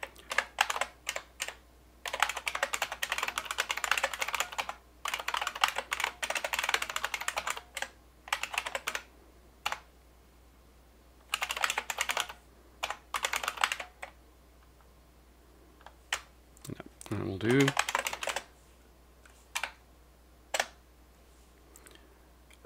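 Keys pressed on an Alphasmart Dana laptop keyboard, close and clear, in dense bursts of rapid clattering strokes broken by short pauses, with a brief warbling tone partway through.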